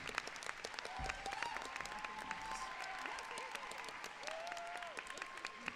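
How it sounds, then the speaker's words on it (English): Audience clapping at an awards ceremony, a quiet patter of hands under a person talking in a reverberant hall, with brief tonal sounds drifting over it. "Let's hear a big round of applause for EJ."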